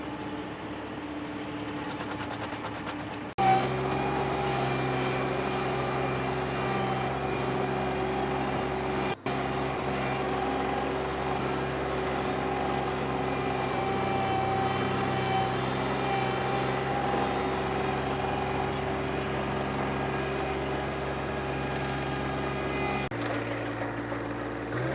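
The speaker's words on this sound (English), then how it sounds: "This is a new tiller from TractorBasics.com." A John Deere 1025R compact tractor runs with a new 5-foot tiller, its engine starting up into a steady, loud mechanical drone that holds for about twenty seconds before dropping off at the end.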